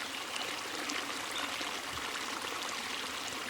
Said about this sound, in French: Le clapotis de l'eau sur les pierres